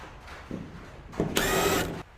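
Flathead screwdriver backing out the screws on an electrical outlet cover plate, heard as short scraping and grinding bursts, with the longest and loudest grind coming near the end, up close and without talk.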